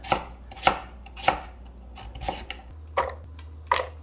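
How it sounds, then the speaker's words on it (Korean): A knife chops radish on a cutting board in slow, uneven strokes, six distinct thuds close up with brief pauses between them. "무가 잘 안 갈려서 이렇게 좀 잔잔하게 썰어서 넣을 거예요"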